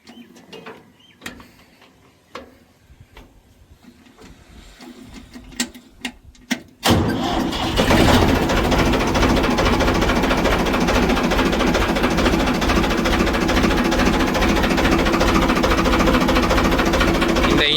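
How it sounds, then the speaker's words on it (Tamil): A 1992 Ford 3600 tractor engine catches after a few scattered clicks and knocks, then runs loud and steady at a close, even idle chug through the rest of the clip. "இன்ஜின் சவுண்டுக்கு தாங்க நிறைய பேர் அடிக்ட்டுங்க."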